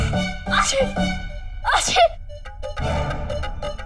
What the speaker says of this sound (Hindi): सुबह से छींक पर छींक पर छींक पर छींक